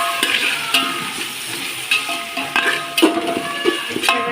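Onion, tomato and green chilli frying in a pan, with a steady close sizzle broken by repeated scraping stirs of a spoon against the pan.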